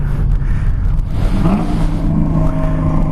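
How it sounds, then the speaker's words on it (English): A C5 Corvette accelerates hard with violent wheel hop, its engine roaring loud and close in a steady, rough drone with a shuddering, pulsing texture throughout. "Holy shit, it wheel hopped like crazy."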